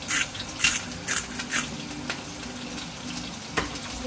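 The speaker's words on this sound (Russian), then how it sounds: "Чтобы оно очень быстро обжарилось, чтобы это было не тушеное, а хорошо жареная курица" Chicken frying quickly over maximum heat in a pan for noodles, a steady close sizzle with bursts of brighter spattering in the first seconds that settle into a softer crackle, with no talking.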